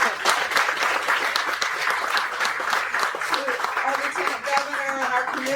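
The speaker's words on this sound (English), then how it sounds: "Can we give her a round of applause?" Round of applause from a gathered crowd at an office grand opening, dense steady clapping filling the whole stretch, with voices audible underneath and a speaker's voice emerging toward the end.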